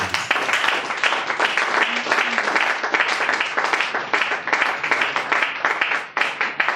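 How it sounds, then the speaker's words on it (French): A church congregation claps and cheers loudly for Jesus, dense rhythmic applause with shouting voices that keeps going without a break. "Acclamons encore plus fort que Jésus."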